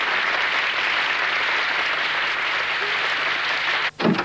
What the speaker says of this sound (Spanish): Un aplauso para recibirla.